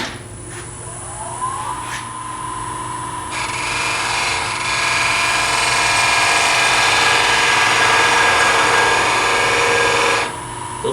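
Wood lathe spinning a turned handle while a skew chisel parts it off, a steady humming motor with a loud, sustained rasping cut that rises midway and holds for several seconds before dropping away, close by and without talk.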